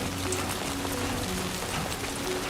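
Steady rain pours in the game Death Stranding 2, a dense continuous hiss of drops on surfaces that stays loud and even throughout, with no voices.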